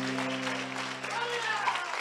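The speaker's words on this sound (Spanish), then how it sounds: "Dele palmas a Cristo Jesús" A church congregation claps in a steady wash of applause under a sustained hum, with people talking in the background during a sermon service.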